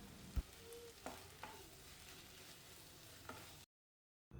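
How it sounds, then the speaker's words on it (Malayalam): Tomatoes with salt and curry leaves sauté in a pan, giving a faint soft sizzle broken by a few light stirring clinks and scrapes, then a brief drop to silence near the end. "കുറച്ച് തക്കാളി ഇട്ടിട്ട് വഴറ്റി കൊടുക്കാം"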